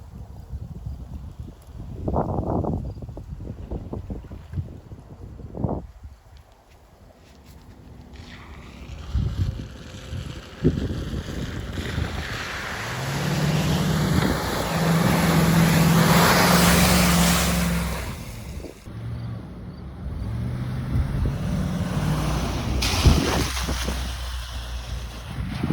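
A 1999 Land Rover Discovery drives off-road through a puddle, with engine rumble, sloshing water and a broad rushing splash building in the middle, plus wind noise, all without speech.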